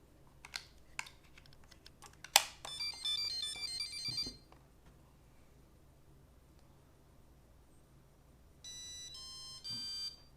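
A string of electronic beeps and rapid chirping tone sequences from a Traxxas Aton quadcopter during a firmware update, then a pause and another short burst of beeping melodies.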